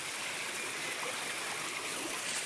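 Steady, broadband rush of water flowing at a village spring water source, constant and close without breaks, no voices over it.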